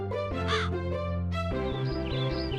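A voice imitates crows cawing over steady background music, a couple of short harsh caw-like calls in the opening second, followed by continuing music with a faint high squeak.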